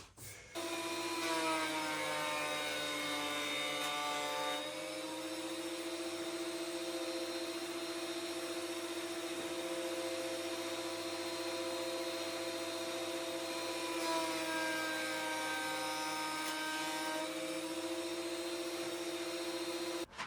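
A DeWalt DW733 thickness planer feeds a piece of oak hardwood, its steady loud motor whine deepening into a droning cut for several seconds, then briefly changing pitch as the board passes through, with no talking.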